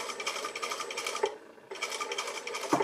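A sewing machine stitches fabric fed under the presser foot while a sleeve cap with ease is set. The fast mechanical whir runs close and steady, breaks off briefly in the middle, then resumes.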